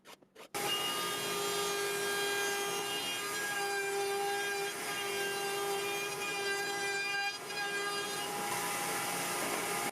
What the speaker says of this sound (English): I spray the boards, sand with 120, and then sand with 220.